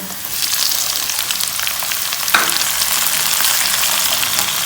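Onions, tomatoes and green chilies sizzle steadily in a hot pan, a close, continuous crackling fry that carries on without pause and brightens briefly partway through.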